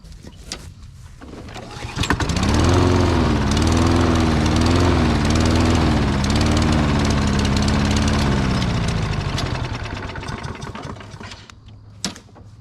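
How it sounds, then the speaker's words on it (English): An 80s Case 446 tractor engine fires up and runs at a loud, steady drone while mowing for several seconds, then winds down and fades out. "Let's see if it'll fire back up and keep mowing."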